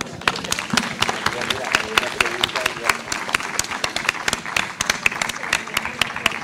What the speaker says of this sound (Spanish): Yo espero que ustedes aplaudan este proyecto